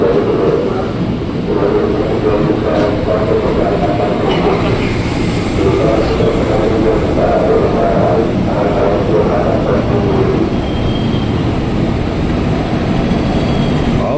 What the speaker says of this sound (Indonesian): KRL udah masuk ke jalur 5 komuteran tujuan stasiun 3 Raksa